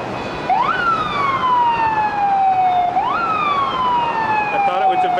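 A wailing siren sweeps up and down in long cycles, loud and steady, like ambulances passing close by along Broadway in New York on September 11, 2001, among many police vehicles.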